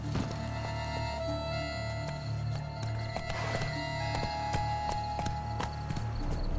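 Horse hooves clip-clop at a steady riding pace in The Witcher 3, sounding close over a sustained musical score with faint ambient sounds.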